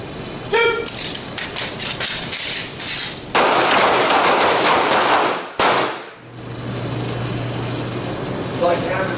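Handgun shots ring out during a night shooting drill in a combatives class: a quick string of sharp reports, then a dense stretch of rapid firing and one final loud crack, with voices in the background.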